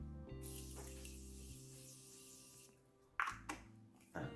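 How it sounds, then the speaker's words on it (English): A steady, close hiss of Morphe continuous setting spray misting onto a face for a couple of seconds, followed by a few soft clicks and handling knocks. "let me spray my face with this Morphe continuous spray"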